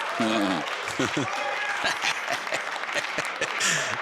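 An audience at a one-pocket pool tournament, the 2018 Derby City Classic, breaks into steady, dense applause, with excited voices and whoops rising over the clapping throughout.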